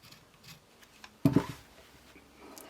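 One short crisp snip of scissors cutting fabric along a center line, close and fairly loud, set against a quiet room with faint handling rustle.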